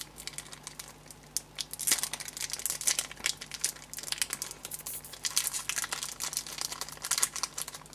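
A Pokemon EX Emerald booster pack wrapper opened by hand without scissors, giving close, continuous crinkling and tearing foil rustles in irregular bursts.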